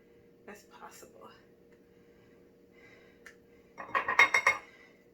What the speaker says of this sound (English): The reason I use the spatula is because then I can get as much of it out as possible.